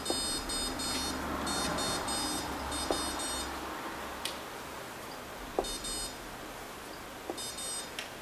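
Electronic beeps from a Novag Citrine chess computer, short high bleeps repeating in quick bursts of several tones with gaps between, alongside faint clicks over a steady background hiss, no talking.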